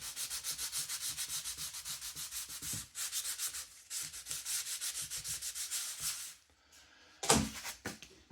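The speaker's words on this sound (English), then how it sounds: "flick it over, give it a light sand" Light sanding of small Tiger Moth model aircraft parts, a close, rhythmic series of quick scratchy back-and-forth strokes, pausing briefly, then a few final rubs and a handling clatter.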